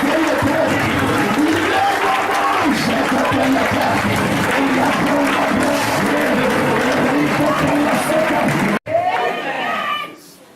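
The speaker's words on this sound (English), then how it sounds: "Clap your hands and pray the prayer." A church congregation claps hands steadily and loudly during prayer, a dense wash of applause mixed with crowd voices, cutting off abruptly before someone speaks over fading noise.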